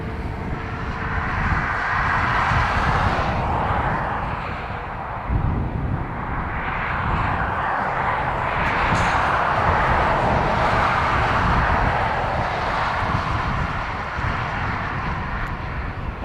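A CFM-engined jet airliner at Dublin Airport roars loudly and steadily, a broad, sustained engine rumble and hiss lasting throughout with a slight swell and fade.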